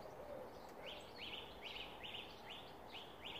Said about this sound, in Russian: Но удивительно, вот птицы, они у нас тут так не поют громко.